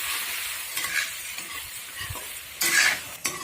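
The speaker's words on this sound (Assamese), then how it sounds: "মাংসখিনি এইদৰে মাজে মাজে লৰাই লৰাই ভাজি থাকিম।" Meat and potato pieces frying for amothu bhaji while being stirred, a continuous close sizzle with scraping and clattering of the spatula in the pan, growing louder in a burst near the end.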